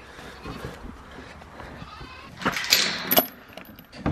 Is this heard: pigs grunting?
yes